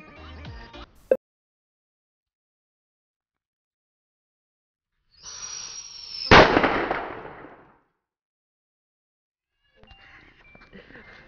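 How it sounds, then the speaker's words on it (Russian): Firecracker matches burst against an avocado, a loud crackling fizz with a sharp bang after a silent pause, up close, followed later by brief talking. "Мы его бабахнем вот этими спичками."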